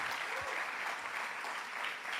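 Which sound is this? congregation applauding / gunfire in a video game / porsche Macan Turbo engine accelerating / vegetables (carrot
congregation applauding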